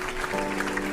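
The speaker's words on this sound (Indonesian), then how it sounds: "Tepuk tangan dulu dong semuanya." Applause from a small group opening a campus podcast, a steady dense patter of clapping heard for about a second, fairly close and even.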